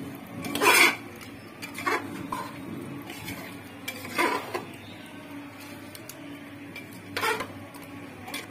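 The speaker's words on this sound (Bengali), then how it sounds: "এবার একটু নাড়াচাড়া করে নিতে হবে।" A spoon scrapes and clatters against a pot while Jahangiri chicken korma is stirred in the oil left from frying onions. Several distinct bursts of stirring come close and fairly loud, with quieter pauses between them.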